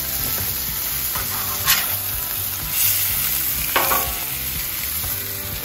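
A bison ribeye and a wagyu strip steak with fresh rosemary sizzle loudly in a hot pan, a constant crackling hiss broken by a few sharper pops and spatters, with no talking.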